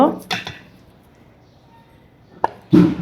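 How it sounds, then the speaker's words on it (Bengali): Rice flour is mixed by hand with salted onion, green chili and coriander in a bowl, giving a few sharp clattering and squishing bursts separated by quiet gaps. "এখন আমি এই চালের গুঁড়োর সাথে সব উপকরণগুলো মিক্সড করে নিব।"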